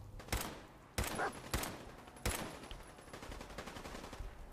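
Gunfire in Fallout 4 cracks out as several sharp, separate shots, then gives way to a quieter rumble of background noise.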